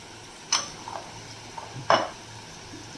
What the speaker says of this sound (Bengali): ওই জন্য হালকা করে একটু ভেজে নেব।